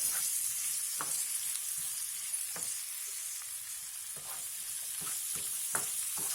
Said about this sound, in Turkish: Şimdi biberlerini atıyorum içerisine. Biraz da biberleriyle beraber kavrulacak.